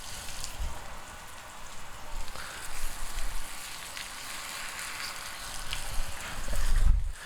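Chicken thighs searing in a hot oiled pan give a steady crackling sizzle, close and continuous, swelling with bursts of spattering toward the end.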